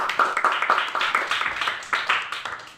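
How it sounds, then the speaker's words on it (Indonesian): A classroom group claps for a presenting team, with quick, brisk, fairly close handclaps running throughout in a rhythmic patter. "Kita kasih aplaus untuk kelompok 3."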